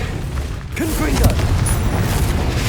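A Confringo explosive spell in Hogwarts Legacy erupts in a loud, close boom with crackling bursts, followed by a sustained rumbling roar that lingers to the end.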